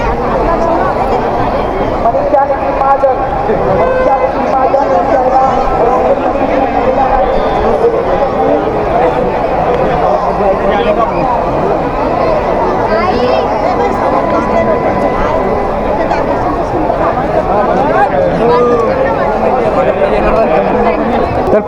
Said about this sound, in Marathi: जिथं नजर जाईल तिथं नुसतं लोकच लोक इतकी गर्दी आहे भयान